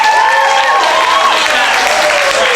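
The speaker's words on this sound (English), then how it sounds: "take that applause and I want you to keep it going" Loud, dense audience applause at a conservatory showcase, sustained evenly from start to finish with whistles or cheering tones riding on top.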